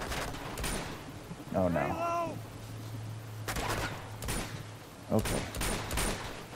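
Gunfire in Uncharted 2: Among Thieves, scattered shots and short volleys at moderate loudness amid game sounds, with someone talking briefly.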